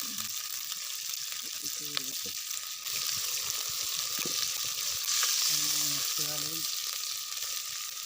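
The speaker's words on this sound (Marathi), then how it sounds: "सगळ्यात पहिल्यांदा त्यानं तेल टाकले आणि आता कांदा टाकलं लाल करायचं चांगलं कांदा" Chopped onion fries in hot oil in a pan while egg biryani is cooked outdoors in a forest, a steady close sizzle and hiss that runs throughout, with faint voices and a few soft tonal sounds in the background.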